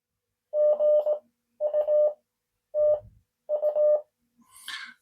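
A QUANSHENG K1 radio running NR7Y firmware as a code practice oscillator sends four steady Morse tones of similar pitch in an even rhythm, each about half a second long and clean against silence, followed by a brief higher chirp.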